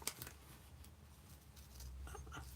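Scissors snip through paper for a collage with a few quick, light cuts near the start and again toward the end, faint and close, with soft paper rustling between them.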